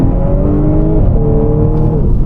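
Modified Audi S5 with roughly 400 brake horsepower, its engine loud and close as it accelerates hard, the note climbing smoothly through one gear and then rising again after a quick shift.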